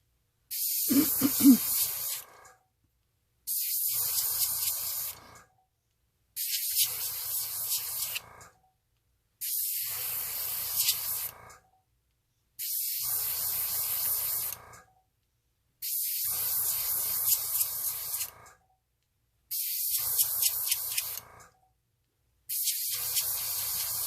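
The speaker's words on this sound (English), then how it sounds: "So I'm just putting down a drop and running the airbrush up and down." An airbrush spraying alcohol ink makes a soft, close hiss in about eight even bursts of roughly two seconds each, with clean silent pauses between them and a faint click at the start.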